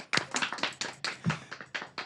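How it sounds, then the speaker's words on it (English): Sparse applause for two workshop organisers, a small group clapping in uneven bursts, close and moderately loud, without talk. "just really want to give those two a big round of applause for the work that they've done"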